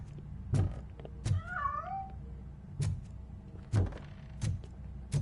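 A cat meows once, a short rising-falling call, in the video game RoboCop: Rogue City, between several dull heavy thuds like footsteps or doors, quiet and without talking.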